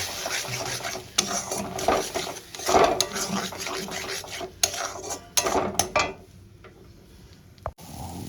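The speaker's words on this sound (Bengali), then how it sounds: "টমেটোর পেস্টটা দিয়ে ভালো করে কষাতে থাকবো" A spatula scrapes and stirs tomato paste with spices in a frying pan for a prawn and jackfruit curry, giving close, irregular rasping strokes and soft clanks of metal on the pan with no voices.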